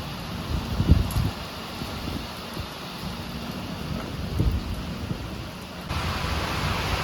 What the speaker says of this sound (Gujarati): જો નીચે આવ્યા ત્યાં વરસાદ ચાલુ જ ધીમો ધીમો.